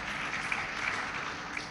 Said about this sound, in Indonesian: itu untuk Anda semua tepuk tangan lah ya enggak?